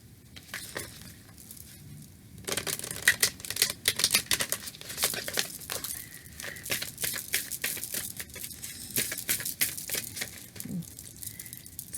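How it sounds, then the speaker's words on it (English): Oracle card deck riffle-shuffled on the lap, giving rapid crackling flutters of cards in repeated bursts, close and fairly soft, with no voice over them. "I'm rifle shuffling this on my legs here"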